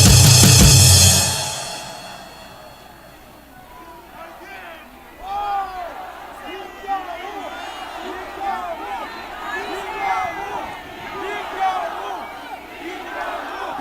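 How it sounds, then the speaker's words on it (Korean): A rally audience roars and cheers loudly at first, then the noise drops to a lively crowd babble with shouts and whoops scattered throughout. "Let's give him a big round of applause."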